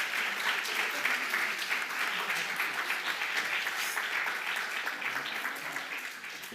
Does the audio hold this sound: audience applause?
yes